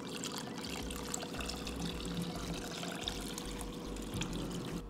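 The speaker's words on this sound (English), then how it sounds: "if they're not fully covered, just add a little bit more water." Water pours steadily into a container of chicken wings in brine, a continuous close splashing trickle with no voices.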